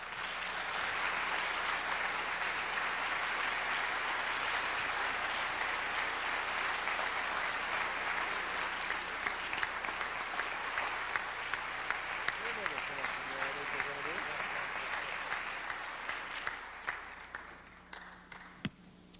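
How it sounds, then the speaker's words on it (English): A large audience applauds steadily for a long stretch, dense clapping that thins out toward the end. "Huntley Brown, welcome him, please."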